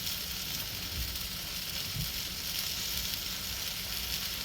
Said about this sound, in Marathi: खालून ते खरपूस छान भाजलं जातं.